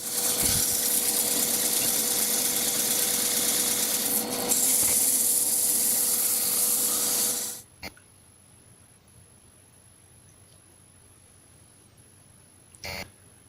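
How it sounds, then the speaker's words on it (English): Rough OSB board is sanded by hand with coarse 80-grit sandpaper, giving loud, continuous, close scratchy rubbing for several seconds before it stops, followed by quiet and a couple of small knocks. "OSB is quite rough, so I'm just giving it a quick wipe over with some 80 grit sandpaper"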